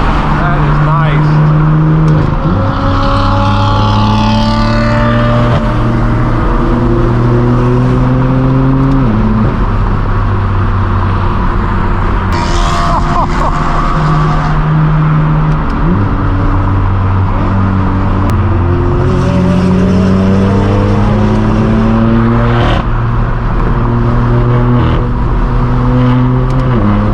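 Straight-piped BMW M4 F82 pulling hard through the gears during a supercar rally, its loud raw exhaust rising and dropping with each upshift over constant road noise, close by, with occasional voices.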